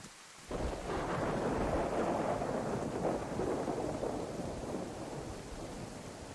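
Rain and thunder in the video game DayZ: a dense, loud wash of rainfall with a deep rumbling roll of thunder that swells in abruptly and holds steady, no voices over it.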